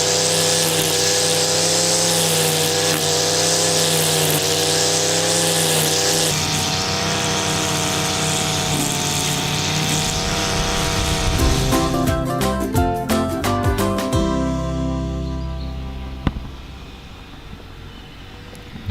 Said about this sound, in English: He's got his grass cutter out.